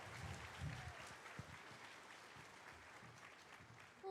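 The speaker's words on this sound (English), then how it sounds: "Let's keep the applause going" Steady crowd applause at TennoCon 2024, a Warframe convention, fills the space, a dense continuous patter of many hands clapping, holding at an even level throughout.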